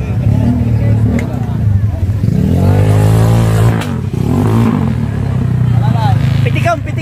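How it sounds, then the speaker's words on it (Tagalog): A broken-down motorcycle's engine revs loudly and unevenly, its droning note rising and falling over several seconds, with people talking close by throughout. "Sira na yung motor."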